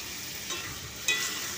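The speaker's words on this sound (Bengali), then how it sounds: "এরপর মাংসটা দিয়ে আমি ধীরে ধীরে মাংসটাকে কষিয়ে নেব" Chicken pieces with spices sizzle steadily in a hot pan for a curry, up close. A couple of scraping stirring strokes sound over the frying, with no one talking.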